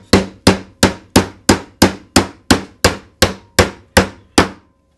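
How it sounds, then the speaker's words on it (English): Hammer tapping nails into pallet wood for a bookshelf, twelve loud, evenly spaced close blows about every 0.37 seconds, each a sharp knock with a short ring, with no voices. "Jen, it's time now to start putting the nails in"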